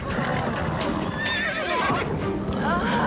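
A horse whinnies in short wavering calls amid hoof clatter and steady background noise, an animated show's horse acting up.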